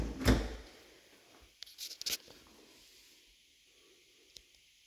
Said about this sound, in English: All of the drawers and cupboard doors are soft close.